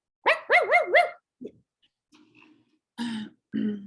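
A dog gives a quick run of three or four barks, followed by a few quieter yelps and whines with pauses between them.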